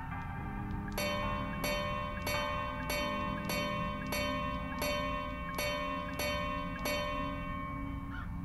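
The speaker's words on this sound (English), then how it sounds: "Maybe I should try ringing the bell." Ten evenly spaced bell strikes ring out in the horror video game Crow Country, each a clear resonant metallic tone over a steady low background hum, with no talking.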